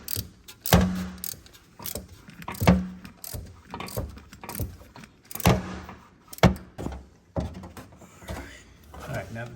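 Thread-cutting die being turned to chase an M8 1.25 thread during Porsche Boxster 986 transmission work, giving repeated metallic ratcheting clicks and scrapes in bursts, close and fairly loud.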